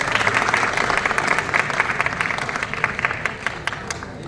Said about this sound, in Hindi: अनामिका के लिए जोरदार तालियां एक बार।